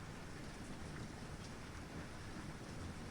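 Gentle, steady rain falls in a soft, even hiss with no break or change, faint and continuous throughout.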